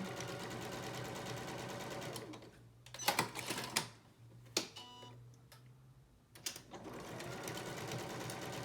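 A home sewing machine stitching a quarter-inch seam straight over pins, a fast steady mechanical whir that pauses for a few seconds with clicks and taps before starting up again.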